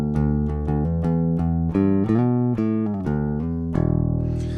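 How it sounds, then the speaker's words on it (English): A Fender P bass on the P pickup picked with a plectrum, clean tone, playing a clear melodic line of distinct plucked notes with sharp attacks, close and alone. "I'm playing with a pick, and I've got my bass. It's just a Fender P bass on the P pickup"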